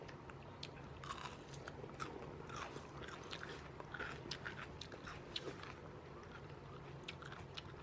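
A young child bites and chews a yellow bell pepper, producing quiet wet crunches and repeated chewing sounds close by, soft and fairly continuous throughout.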